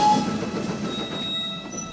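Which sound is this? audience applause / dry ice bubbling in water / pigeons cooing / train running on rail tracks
train running on rail tracks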